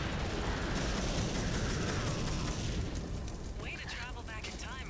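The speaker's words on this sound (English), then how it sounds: "Explosion can only mean one thing." A loud, rumbling explosion in the game TimeSplitters: Future Perfect fills the clip with dense crackling noise, then settles into lingering debris-like rumble as a voice begins to speak.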